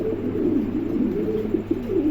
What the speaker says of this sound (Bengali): এখানে এক জোড়া দেখেন কবুতর আছে, চমৎকার এক জোড়া।